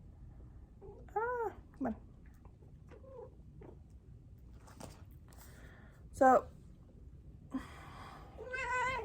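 A pet kitten named Mufasa meows several times indoors, short high cries scattered between quiet stretches, with a person speaking softly over and between them.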